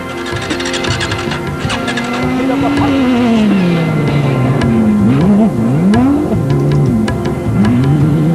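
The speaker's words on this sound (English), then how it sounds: "his distinctive pink buggy rumbling through the dunes" A pink rally buggy racing the 2007 Dakar Rally drones through sand dunes, its engine note rising and falling in pitch as it revs, loud and continuous under a commentator's voice.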